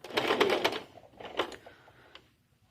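Domestic sewing machine stitching a short diagonal seam across the corner of a small fabric organizer bag, a quick close rattling burst that pauses, restarts briefly, then fades out.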